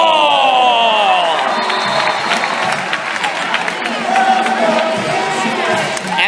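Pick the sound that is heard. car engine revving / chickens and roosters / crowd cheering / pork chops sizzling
crowd cheering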